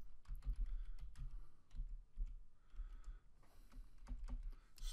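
Keys on a computer keyboard clatter in quick uneven bursts of close, quiet clicks and thumps as someone types in MS Word, with no voices.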